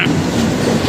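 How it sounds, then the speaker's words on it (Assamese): A passenger train rolls into a station, its wheels and carriages producing a steady, loud low rumble with a faint rhythmic clatter throughout the short stretch, with no voices over it. "তো ফাইনেলি আমাৰ গাড়ীখন আহি পালে"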